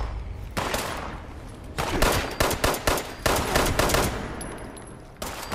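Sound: gunfire in the video game Fallout 76

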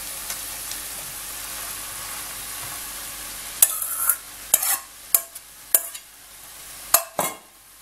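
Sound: cabbage frying in a pan

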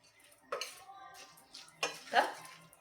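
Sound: stirring lentils and vegetables in a pot for khichdi

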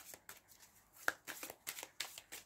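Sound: tarot cards being shuffled

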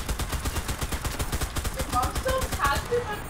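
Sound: gunfire in video game CRSED

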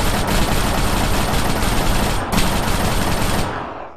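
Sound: gunfire in the video game ARMA 3

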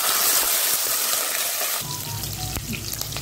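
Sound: chopped green chillies frying in a pan for vangibath

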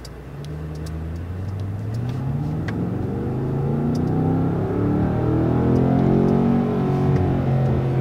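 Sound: car engine accelerating in race mode

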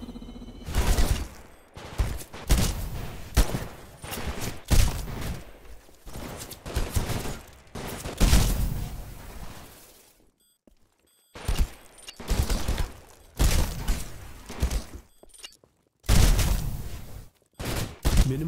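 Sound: gunfire during live fire exercise in video game Titanfall

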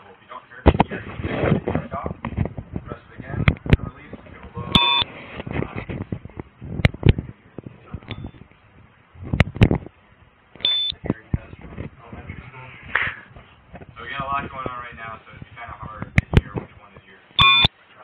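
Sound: AXON Flex camera beeps

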